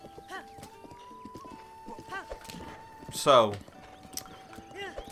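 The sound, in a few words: horse galloping in The Legend of Zelda: Breath of the Wild video game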